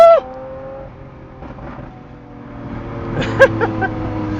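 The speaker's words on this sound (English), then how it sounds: "This is a real V12 Lamborghini engine, okay?" A 2019 Lamborghini Aventador LP 740-4 S Roadster's V12 engine idles with a deep rumble, then rises into a couple of sharp, loud revs near the end.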